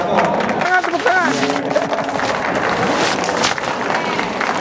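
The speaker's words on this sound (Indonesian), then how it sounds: "Tangan, tepuk tangan." An alumni association inauguration crowd claps and cheers at close range, a dense, continuous wash of applause with voices mixed in throughout.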